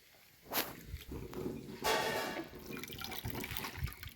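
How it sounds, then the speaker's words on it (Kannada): Water drains and drips from soaked flattened rice (poha) in a home village kitchen, with close splashing and trickling plus a few soft knocks and handling sounds. "ನೀಟಾಗಿ ನೀರೆಲ್ಲ ತೆಗೆದು ಹಾಕೋಬೇಕು."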